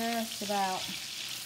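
Sweet potatoes and carrots sizzle quietly in a skillet, giving a soft, steady hiss. A brief pitched squeal sounds near the start.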